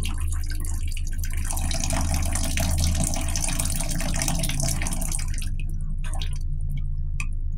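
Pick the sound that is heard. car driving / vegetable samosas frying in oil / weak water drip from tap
weak water drip from tap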